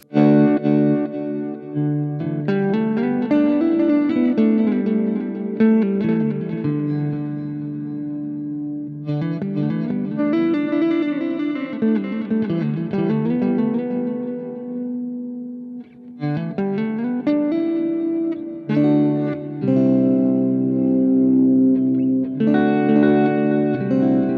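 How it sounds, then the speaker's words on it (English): An electric guitar plays a continuous melody through an EarthQuaker Devices Avalanche Run pedal's swell delay mode, notes blooming in and blending into lush echoes, with no voices. "There is a swell delay."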